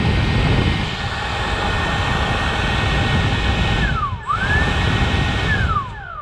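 Electric ducted fan on an FMS Platinum 2100 RC jet spooling up on the ground, a steady loud whine with rising and falling tones as throttle changes, mixed with broadband wind rush.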